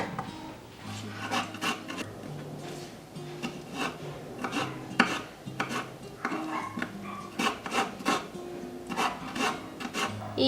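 Knife chopping saladette (guaje) tomato finely on a cutting board for homemade Mexican guacamole, a run of close, irregular knife taps and scrapes against the board, with no talking.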